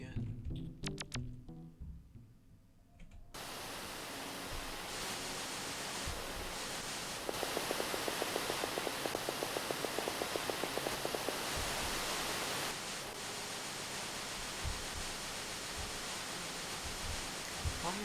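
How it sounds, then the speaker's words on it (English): Steady, flat hiss of a video game waterfall rendered as plain white noise, continuous and fairly loud, with faint rhythmic ticking in the middle and brief low sounds early on. "Why is that waterfall just white noise?"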